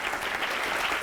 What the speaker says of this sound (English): So let's give our panelists a round of applause